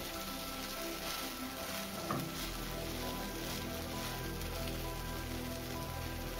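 Chickpea lentil fritters deep-frying in hot oil give a steady, dense, rain-like sizzle that stays even and close throughout, with no voices.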